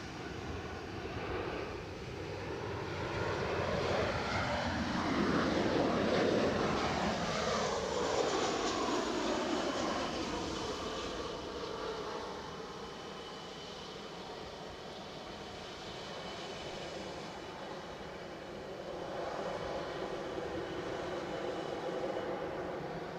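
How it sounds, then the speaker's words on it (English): A Ryanair airliner arriving from Budapest at Edinburgh Airport gives a distant jet engine roar that swells to a peak, fades, then rises again, heard alone without talk. "So the Ryanair on screen has just arrived from Budapest."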